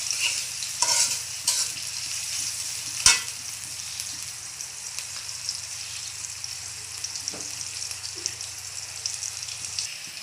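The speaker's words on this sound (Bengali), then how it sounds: "তো পেঁয়াজটা ভালোভাবে ভেজে নিব।" Onions frying in a pan for a papaya and potato side dish, a soft continuous sizzle with stirring scrapes and a sharp clink near the start, close and fairly quiet, no talking.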